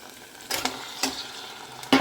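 Chopped tomatoes are tipped into a pan of ginger-garlic paste frying in oil, giving a few bursts of hissing sizzle with stirring scrapes between them, all close and fairly quiet.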